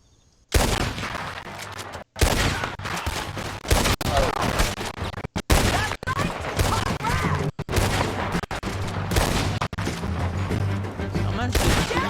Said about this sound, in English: on tire dans le tas